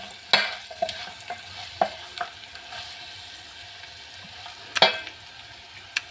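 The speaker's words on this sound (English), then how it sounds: "Garlic and ginger cooks fast, so burning is so easy." Garlic and ginger fry with meat in a pan while a spaghetti and meat dish is cooked, giving a low steady sizzle broken by several sharp scraping stir strokes, close and moderately loud, with no talking.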